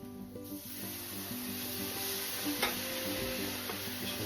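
Milk poured into a hot pan for gravy and stirred, a continuous close sizzle with scraping, rubbing stirring strokes throughout and no talking.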